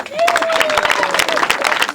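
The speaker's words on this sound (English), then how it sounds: "A round of applause once more." Dense applause from a crowd at a minor seminary grotto celebration, many hands clapping rapidly and steadily, with a voice calling out over it.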